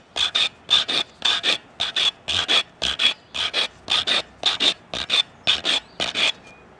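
A file rasps across the edge of a freshly cut piece in a barn workshop to remove burrs, giving about sixteen loud, evenly spaced back-and-forth strokes with no talking.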